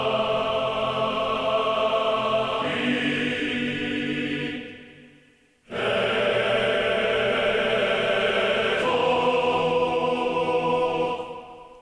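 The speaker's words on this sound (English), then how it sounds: "The choir is from Chorus by Audio Imperia," Choir sample from the Chorus library by Audio Imperia, played in an adventure-style orchestral track, sustains two long, loud sung chords with vowel shifts and a brief fade and gap between them.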